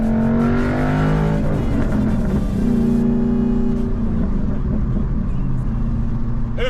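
A 2012 Ford Mustang Boss 302 engine revs sharply after a missed shift, a loud, strained rising whine that drops off into a steadier droning engine note, with possible talk mixed in.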